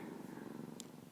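Foster kitten purring softly and steadily while being massaged, a close, quiet rhythmic rumble with no voices.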